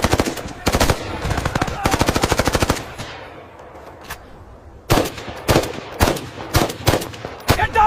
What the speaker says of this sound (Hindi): गोली फायर, कीप फायरिंग।